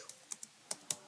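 Five quick, crisp keystrokes on a computer keyboard while C code is typed, close and fairly quiet with brief gaps between taps.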